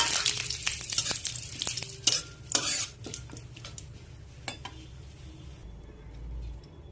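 Dried chilli, cinnamon and bay leaf fry in a pan, a soft sizzle under close clinks and scrapes of a utensil stirring against the metal, busier early and settling toward the end.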